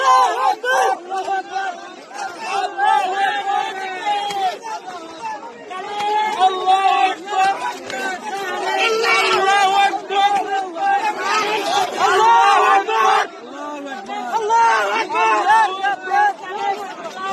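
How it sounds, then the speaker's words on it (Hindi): A mob in Bangladesh shouts together in a loud, dense mass of overlapping voices, with rising and falling bursts of yelling that continue steadily throughout. "चारों तरफ भारत में इस्लामिक भीड़ के द्वारा यही नारे सुनने को मिलेंगे जो आज बांग्लादेश में लिंचिंग करते समय सुनने को मिल रहे हैं"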